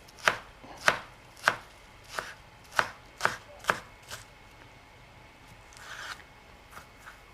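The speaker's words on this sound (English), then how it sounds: "Actually, I'm just going to slice it." Knife slicing through shiso leaves on a cutting board, a series of crisp, evenly spaced close cuts, about seven sharp chops followed by a few softer scrapes.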